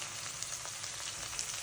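Onions, garlic chutney and tomatoes fry in a pan with a steady, soft sizzle and occasional faint stirring clicks, close by and without any talk.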